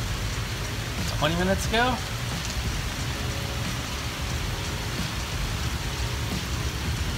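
Heavy South Florida summer afternoon rain pours down in a loud, constant roaring hiss, with a brief spoken remark near the start.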